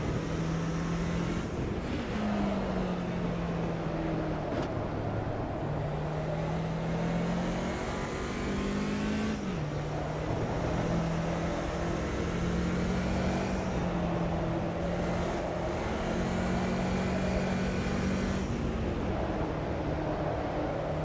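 Vintage BMW 2002 Turbo touring car engine in the Automobilista 2 racing game, a steady loud drone with pitch rising through the gears and dropping at shifts, running continuously throughout.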